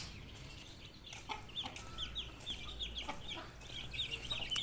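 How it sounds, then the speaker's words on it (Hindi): Young chicks pecking at fresh green grass, with soft high cheeps and clucks repeating through the whole stretch over low background rumble and scattered handling noises. "ये जी माशाल्लाह देखें ज़रा किस तरह चूज़े शौक से खा रहे हैं"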